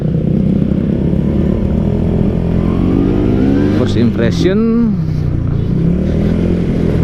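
A Yamaha RX-Z motorcycle fitted with a swapped Kawasaki Ninja RR Super KIPS two-stroke engine idles loud and close, then gives a sharp rising rev and drops back, while someone talks over it.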